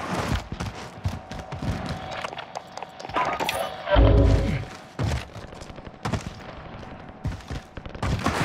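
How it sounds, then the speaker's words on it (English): Gunfire in a Call of Duty: Warzone battle royale match, with sharp close shots and bursts scattered across the scene and one heavy, booming impact near the middle, plus faint game sounds between them. "Oh, I'm getting sniped."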